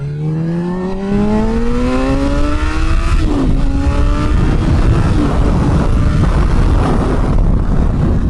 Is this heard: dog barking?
no